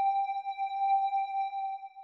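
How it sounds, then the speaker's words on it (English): Accent lead synth from Serum in an FL Studio trap beat, a single pure sustained tone with a few clean harmonics, held steadily for about two seconds with slight wavering, heard alone. "the last part of this loop is just this accent lead from Serum."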